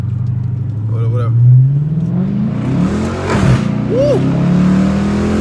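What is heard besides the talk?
2019 Chrysler 300 V8 with cold air intake accelerating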